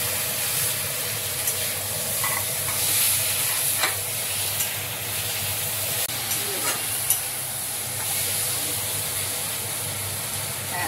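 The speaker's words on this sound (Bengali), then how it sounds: "এটা শিমলা মির্চ, বিনস, পেঁয়াজ ভাজা হলো হচ্ছে" Steady sizzling of capsicum, beans and onion frying in a hot pan, with occasional stirring scrapes and soft clinks, continuous and close.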